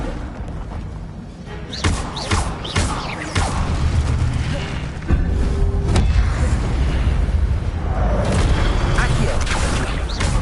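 Incendio fire spell cast in the Harry Potter PS2 game, a game effect of repeated whooshing bursts and thumps with creaking, mechanical textures, fairly loud and continuous through the whole stretch.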